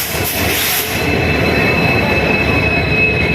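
A train rumbles in close and loud, with a steady high wheel squeal over the heavy rolling noise of the carriages.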